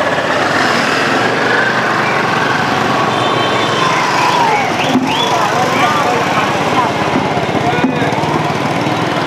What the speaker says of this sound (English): There are motorbikes everywhere.